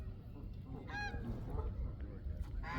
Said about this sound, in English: everybody's out here feeding the ducks